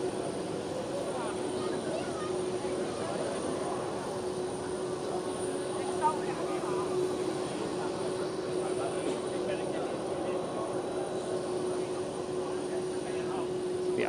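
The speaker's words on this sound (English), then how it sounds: "767 is taxiing out." An Icelandair Boeing 767 taxiing out at Amsterdam Schiphol airport, a steady, distant jet engine drone holding evenly for the whole stretch with no clear changes in pitch.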